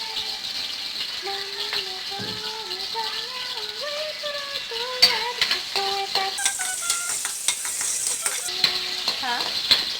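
Food frying in oil gives a continuous sizzle and crackle beneath tonal squeaks and rattles, louder bursts of popping toward the end, with some background voice activity.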